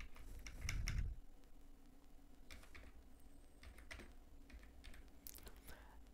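Typing an application number on a computer keyboard: quiet, scattered clicks and key taps over a low steady room hum, with one brief louder thump near the start.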